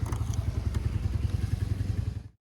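A scooter engine putters steadily and close, its rapid regular pulsing running for about two seconds before cutting off, ready for a ride along a ghat road.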